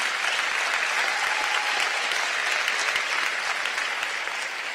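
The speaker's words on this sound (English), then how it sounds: "Can we give everyone a round of applause?" Audience applause at a commencement ceremony: loud, sustained clapping from a large crowd, dense and even throughout, with no voices rising above it.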